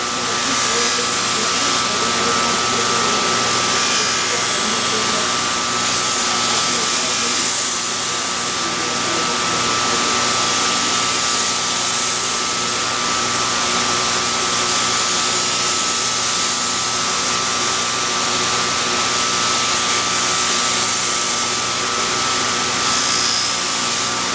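A CPM-3V steel knife blade is ground on a belt grinder at the knife factory, a loud, continuous, even whine and rasp with a steady high tone running throughout; a voice speaks over it.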